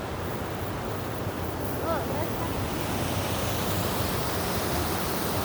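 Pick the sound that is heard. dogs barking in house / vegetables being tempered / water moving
water moving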